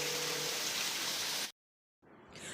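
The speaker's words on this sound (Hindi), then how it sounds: "बारिश इतनी तेज़ हो रही है" Heavy rain pours down in a dense, steady hiss that cuts off abruptly, then after a short silence it returns and builds again.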